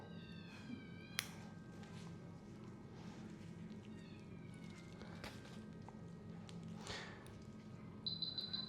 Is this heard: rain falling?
no